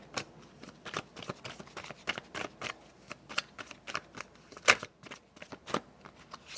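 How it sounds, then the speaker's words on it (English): A deck of affirmation cards is shuffled by hand, giving a run of crisp, close riffling snaps and flutters that come in quick irregular bursts for several seconds, with no talking over them. "I'll shuffle one more time."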